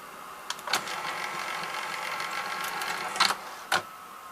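A Sanyo VCR-7200 Betamax VCR unloads its tape with a soft, steady mechanical whir, broken by a few sharp clicks and clunks from the mechanism near the start and toward the end.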